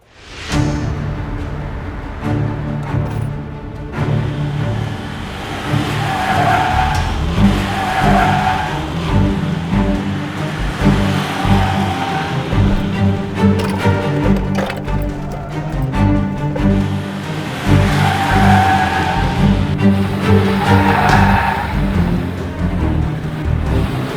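Mitsubishi EVO 6 on new BFGoodrich sport tires driven hard through hairpin turns on a track, engine revving and roaring continuously with repeated tire squeals as it corners, loud and close throughout.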